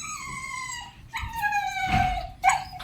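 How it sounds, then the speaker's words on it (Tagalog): A dog lets out drawn-out, wavering howls and whimpering cries, close and fairly loud, in two or three long rising and falling phrases. "Ayan na ang aso natin,"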